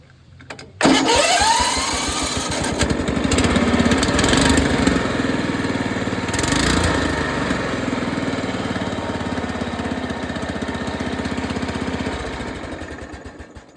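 A small engine fitted with a newly installed carburetor starts up at about one second and then runs steadily at low idle for the rest of the clip, loud and close outdoors near a shop.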